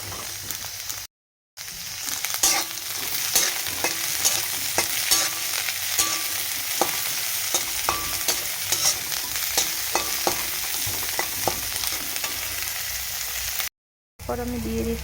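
Chopped chili, onion and vegetables fry in a pan for oats khichdi, a steady close sizzle broken by frequent scraping stirs and clinks of a spatula, with two brief silent gaps.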